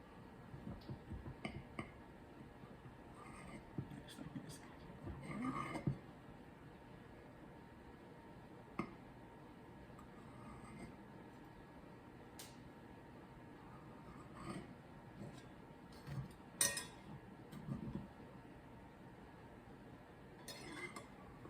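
A knife cuts through hot, freshly baked Jiffy cornbread in its pan, giving soft scraping and a few light clinks of the blade against the dish, close by and quiet, with brief louder bursts amid long stretches of near silence.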